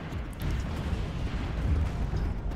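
Muffled, rumbling booms from space battle explosions in the video game Stellaris roll on in a dense, continuous stream, like distant explosions blending together.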